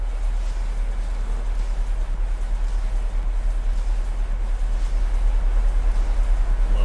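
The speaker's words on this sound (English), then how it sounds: "you can hear that the engines are spooled back and you get that nice deep rumble" Deep, steady low rumble of Boeing 737-800 engines spooled back during descent in a PMDG flight simulator, a continuous broadband drone that swells slightly toward the end, with no talk over it.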